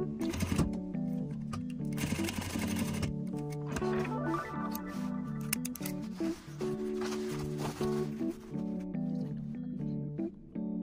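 A sewing machine stitches across a folded pillow corner, a half-inch seam, giving a continuous mechanical hum with rhythmic whirring and a few brief pauses and restarts, close but fairly quiet.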